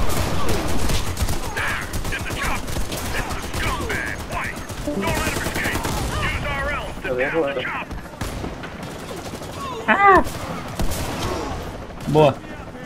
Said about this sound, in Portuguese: Um tiro lá do azul.